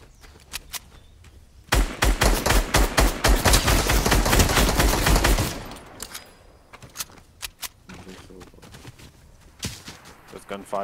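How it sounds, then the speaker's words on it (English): A loud burst of rapid gunfire in Fortnite rattles for several seconds, then fades to scattered, quieter shots. "There's gunfire to the east."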